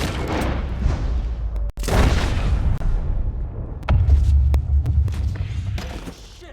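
Gunfire in the Red Dead Redemption 2 robbery scene, a heavy booming shot followed by a second loud blast, with reverberant rumble and scattered cracks afterward and no talk.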